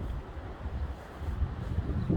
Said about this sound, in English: I do love windy days like this.